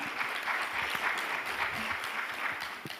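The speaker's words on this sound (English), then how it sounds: "Kindly clap for them." An audience at a tech innovation week event applauds panelists, a steady, moderately distant wash of many hands clapping that holds evenly throughout.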